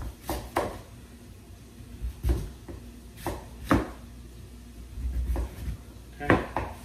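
A knife cuts a potato into four or five flat slices on a cutting board, giving a few scattered sharp thuds and chops, with background kitchen handling between them.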